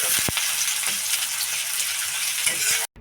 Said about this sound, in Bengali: এখন আমি পেঁয়াজ কুচিগুলো ভালোভাবে নাড়াচাড়া করে ভেজে নিব।